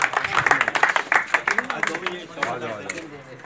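Clapping at a prize-giving ceremony for a pigeon racing competition, a burst of crowd applause with sharp, irregular claps under loud talk and cheering, thinning toward the end.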